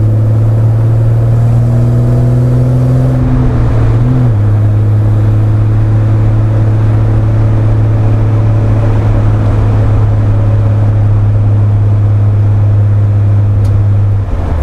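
A classic Jaguar engine of 275 horsepower in a 900-kilogram car, heard up close and loud, holding a steady drone with a sharp rev change around four seconds before settling into a sustained, even tone with no talk.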